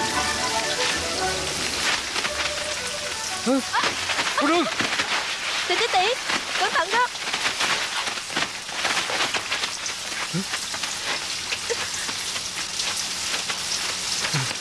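Steady rain falls throughout on a period drama set outdoors, a broad hiss of drops on surfaces, with people talking over it and rising tonal sounds in the middle.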